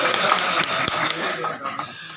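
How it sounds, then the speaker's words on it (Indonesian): Clapping from an audience at a meeting of the Babakan NU branch board at the PBNU office. The applause is dense and steady, mixed with voices, and tapers off near the end. "tepuk tangan lagi"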